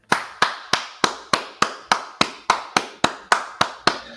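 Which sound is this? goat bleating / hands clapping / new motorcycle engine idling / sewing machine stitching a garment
hands clapping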